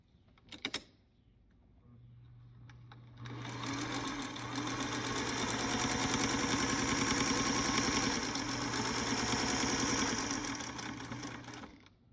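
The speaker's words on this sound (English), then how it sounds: "So I'm just gonna stitch right along that edge." A sewing machine stitches along the edge of a Ziploc plastic bag, starting after a couple of clicks with a steady, close mechanical whir that builds and runs continuously before stopping abruptly.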